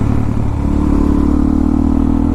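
Motorcycle engine at full throttle in third gear around 27 mph, a loud, steady, close mid-pitched roar that holds strong throughout with no talking.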